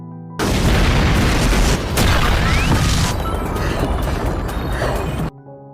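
A bomb blast rips through a city in an anime, a loud booming explosion that roars and rumbles continuously for about five seconds before cutting off abruptly.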